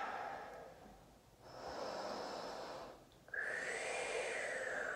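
Slow, deep breathing during a yoga session, a soft airy inhale and exhale repeated, close and quiet with no talking.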